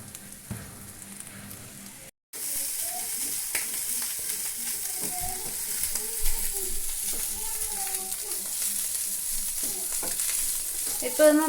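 Food fries in a pan until crisp, a steady close sizzle running through the clip after a brief cut, with faint background sounds over it.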